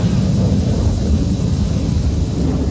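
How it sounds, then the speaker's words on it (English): An Indian Air Force Sukhoi Su-30 MKI jet tumbles through an aerobatic maneuver in the sky, producing a loud, steady, broadband engine roar that holds without a break. "the aircraft tumbles out in the sky, carrying out a somersault to the left, the loop tumble yaw"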